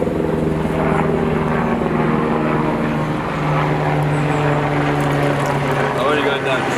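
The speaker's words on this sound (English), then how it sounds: "Police helicopter. Oh. They're constantly going over." A police helicopter passes overhead near a backyard koi pond, its steady rotor and engine drone loud and continuous throughout, with people talking under the noise.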